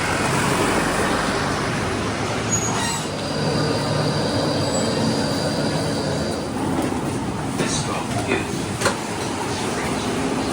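A Melbourne tram rolls through the central business district, a steady close rumble of wheels and motor with brief metallic squeals from the rails and faint street traffic outside, with people talking quietly on board.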